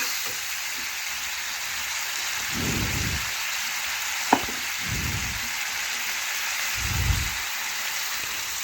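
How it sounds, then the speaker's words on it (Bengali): Mustard paste frying in a pan as salt is stirred through it, a steady loud sizzle hissing throughout with a few soft low scrapes of the spoon and one sharp tap near the middle. "এই লবণটাও ভালোভাবে নাড়াচাড়া করে মিশিয়ে নিচ্ছি"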